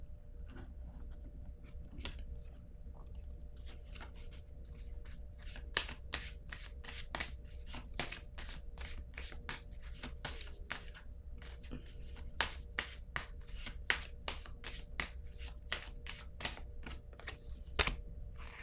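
A deck of cards is shuffled repeatedly for a card reading, close dry riffling bursts coming in quick irregular runs, louder and denser in the second half, with no talking.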